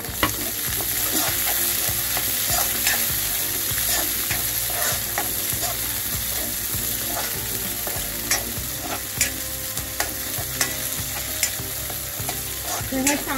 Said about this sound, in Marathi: ह्या चांगल्या भाजून घ्यायच्या मिरच्या भाजत आलेल्या आहेत